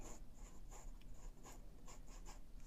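Pencil drawing a straight diagonal line across paper to form a right triangle, a soft, faint scratchy scraping in short repeated strokes, close and quiet.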